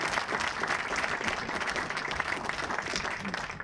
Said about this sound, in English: Please join in giving the men and women of the DPW a round of applause.